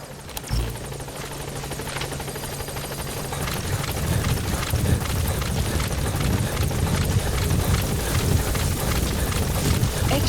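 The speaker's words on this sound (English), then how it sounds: "Support helicopter has arrived." A support helicopter arrives in Metal Gear Solid V, its rotor producing a loud, steady thumping drone that swells slightly as it draws near and continues without pause.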